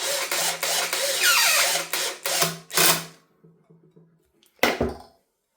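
A screw with a couple of washers is tightened by hand to clamp a dowel on a Titan band saw: a run of close, scraping, ratcheting bursts, a pause with faint ticks, then one final sharp clack.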